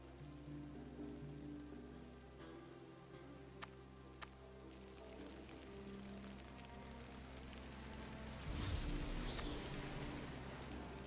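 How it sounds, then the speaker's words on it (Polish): Steady rain falls in the game Diablo Immortal, a continuous hiss that swells louder near the end, with a couple of faint chimes and no talk. "jeszcze deszcz pada"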